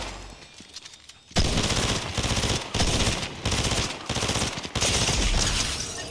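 A gun in Fortnite fires in repeated loud bursts of rapid shots separated by brief gaps, close up and continuing for several seconds after a quiet start.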